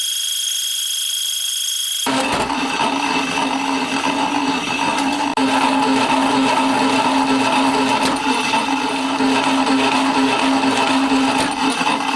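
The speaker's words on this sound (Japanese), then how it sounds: "では、まずは材料を切るところからスタートします。" A power tool cuts metal stock into T-slot nuts in a workshop, a loud, steady, continuous grinding whine that starts abruptly after a high-pitched tone and runs without a break.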